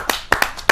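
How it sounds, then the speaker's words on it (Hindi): At a Hindi kavi sammelan poetry gathering, a few sharp, close hand claps ring out for a poet, separate and unevenly spaced rather than a full crowd ovation. "आपकी जोरदार तालियां मिले"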